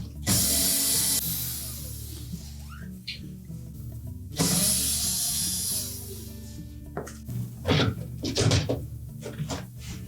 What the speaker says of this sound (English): we'll remove the screws that secure that filter assembly to the top of the pump